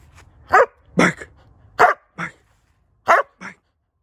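A fawn Doberman Pinscher barks six times in short, sharp bursts, irregularly spaced, close by with quiet gaps between.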